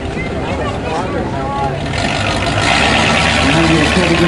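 A Jeep engine revs steadily while rock crawling at a 2004 UROC event in St. George, with the drone rising in intensity over the clip and a voice talking over it.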